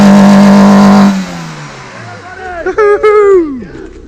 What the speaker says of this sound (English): Ensure you bounce your freshly unstuck engine off the limiter,